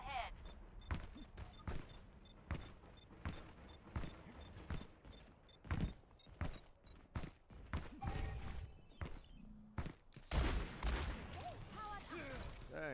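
An enemy turret firing in Overwatch, rapid repeated sharp shots in quick bursts, fairly close, building to denser heavy gunfire near the end, with game voices in between.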